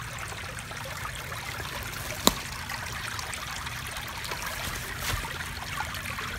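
A forest creek trickles steadily and softly during a chanterelle mushroom hunt, a constant gentle wash of water broken once by a sharp click.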